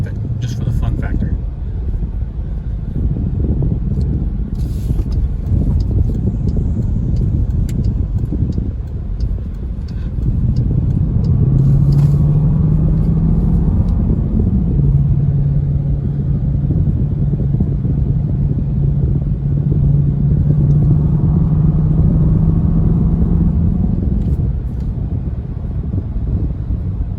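A Dodge Durango SRT cruises in sport mode with a steady low engine and road rumble filling the cabin, its tone rising into a firmer drone midway, while someone talks over it.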